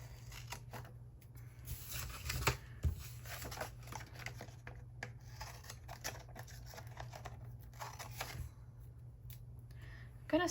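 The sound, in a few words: scissors trimming paper flower stickers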